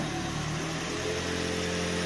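The engine of a Toyota Prius Alpha seven-seater runs after servicing with new spark plugs and filter, a steady, close mechanical hum and drone with no voices.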